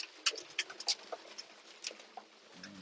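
Pigeons in a pigeon loft, with soft fluttering, scuffling and brief coos repeating irregularly at low volume, close by and without talk.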